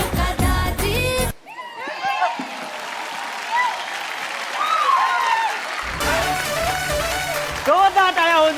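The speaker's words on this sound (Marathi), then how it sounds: "जोरदार टाळ्या होऊन जाऊ देत." A studio audience on a Marathi television show breaks into applause mixed with voices and cheering, bracketed by bursts of loud music at the start and end.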